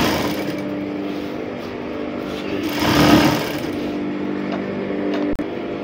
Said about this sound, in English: When you are sewing your crinoline, you don't need to drag it, just sew it and let it run its course.